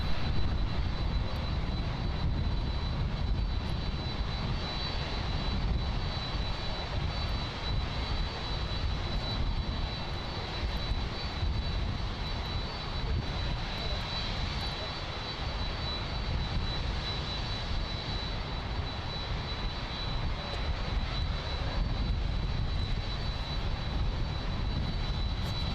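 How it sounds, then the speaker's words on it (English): A jet airliner on flight 1101 at Miami International Airport spools up its engines, a sustained rumbling roar with a thin high whine running through it, heard at a distance and steady throughout without voices. "Here we are, listen to this spool up."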